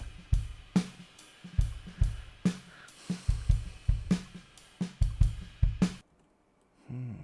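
A drum beat plays back with regular kick and snare hits and crisp cymbal taps in a steady groove, stopping abruptly near the end.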